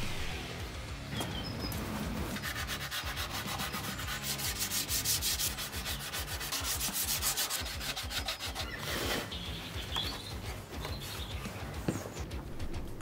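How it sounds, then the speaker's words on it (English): Hand sanding on wooden dresser drawers, the sandpaper rasping back and forth in quick, rhythmic strokes, close and steady throughout. "I started with sanding the top of the drawers and hand sanding the sides of the tops"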